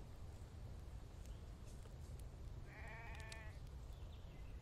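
One short sheep bleat in the video game The Infected, moderately faint and wavering, heard over a constant hiss of game ambience.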